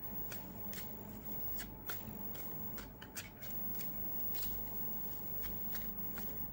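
Tarot cards are shuffled for a reading, a soft continuous riffling and flicking of the deck with brief sharper snaps, close up and quiet with no talk.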